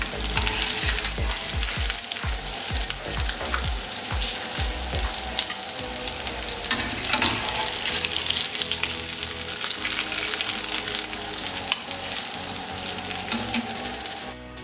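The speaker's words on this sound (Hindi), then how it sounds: "कबाब हमारे दोनों साइड से अच्छे तरीके से गोल्डन फ्राई हो गए" Potato kebabs frying golden in hot oil give a loud, steady sizzle with crackling bursts that continue throughout, with no talking.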